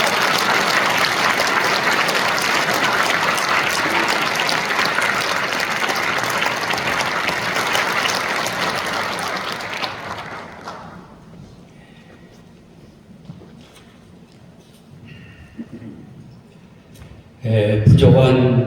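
Church audience giving a strong round of applause to welcome an honored elder, loud dense clapping for about ten seconds that fades to a quiet room with small noises before a voice begins speaking.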